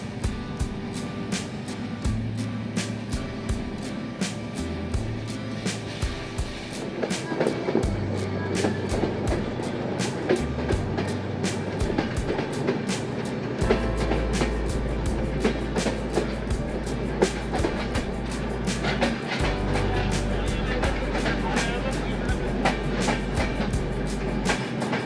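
Panchagarh Express on its rainy-season run from Dhaka to Panchagarh, speeding along behind schedule: a steady heavy rumble from inside the train, with a droning low hum that shifts level and a constant patter of rhythmic wheel clicks, with no talk.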